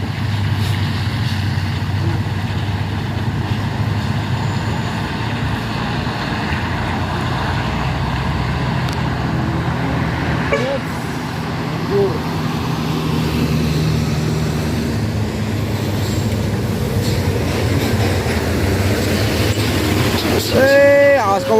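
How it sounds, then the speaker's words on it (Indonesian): A blue intercooler truck strains on a steep hill slope, failing to climb and rolling backward, its heavy engine drone loud and steady amid traffic noise, with a brief squeal near the end. "Ya, satu unit truk intercooler warna biru gagal nanjak mundur."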